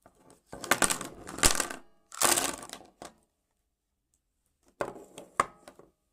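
Stabilo pens poured out onto a surface, bursts of rattling plastic clatter that tumble and settle, then a quiet gap and a few more clacks, close and alone.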